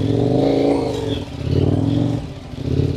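A motorcycle engine revs hard and steadily, up close, as the bike labors along a muddy road near Mbeya, rising and dipping in a few pulling surges over the mud.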